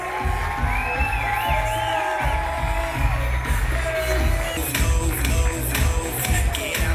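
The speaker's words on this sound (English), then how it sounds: "Let's give the happy couple another big round of applause." Wedding reception guests cheer and clap for the newlyweds Rachel and Wesley, a busy crowd noise with whoops, scattered claps and shuffling under music-like tones, growing louder and more percussive toward the end.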